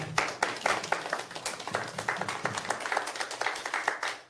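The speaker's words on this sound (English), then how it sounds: "let's give them a round of applause" A crowd applauds steadily, dense overlapping claps from many hands filling the room for several seconds without pause.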